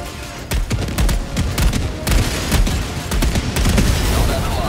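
Gunfire in Helldivers 2 cracks out in a dense volley of sharp shots, several close together, over a constant noisy battle backdrop.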